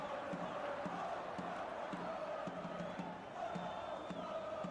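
Crowd noise fills the arena at an esports match, with a steady roar and scattered cheers running evenly throughout, faint and continuous with a brief dip near the end.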